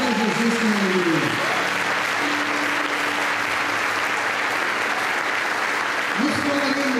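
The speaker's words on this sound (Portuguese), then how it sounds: "Vamos aplaudir Jesus com alegria" A church congregation applauds in a steady, dense roar of clapping throughout, with a voice speaking or singing over it at the start and end.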